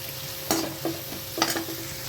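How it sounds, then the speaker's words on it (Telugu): Shredded cabbage fries in a hot pan as a utensil stirs it, giving a steady sizzle with a few distinct scraping strokes close by. "ఇప్పుడైతే క్యాబేజ్ చేసుకున్నాం బాగా ఫ్రై చేసుకోవాలి"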